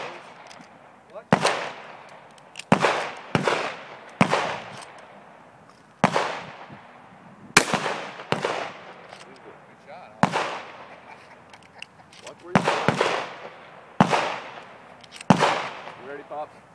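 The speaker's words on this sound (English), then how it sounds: "No, I'm shooting my gun." Shotgun shots fired at clay targets at an outdoor shooting ground, about a dozen sharp, loud single blasts spaced irregularly, each with a short decaying echo, while people talk quietly between shots.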